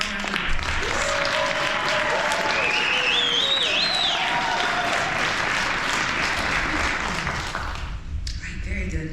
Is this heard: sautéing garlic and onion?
no